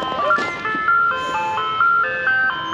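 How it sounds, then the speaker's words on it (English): An ice cream truck's chiming jingle plays a bright melody of clear, repeating electronic tones as the van passes nearby, loud and alone with no talking over it. "Sure sounds like an ice cream truck to me."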